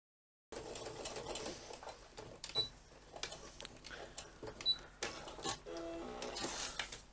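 A sewing machine stitches vinyl for a fanny pack, a close, fast mechanical whirring in short runs broken by brief stops and clicks, fairly quiet, with no speech.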